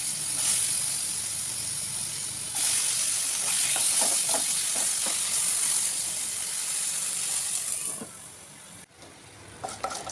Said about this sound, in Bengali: তুলে এই কড়াইতে বসিয়ে দেবো এবার আলু ভাজতে